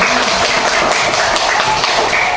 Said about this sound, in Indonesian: beri aplaus untuk teman-temannya